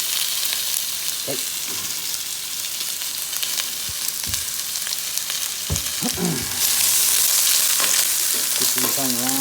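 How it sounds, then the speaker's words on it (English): Onions hitting a hot, smoky pan fry with a loud, constant close-up sizzle, punctuated by utensil clanks, with the hiss brightening near the end; a brief spoken word is heard. "First things first, pan's hot and smoky. Now, time to add onions."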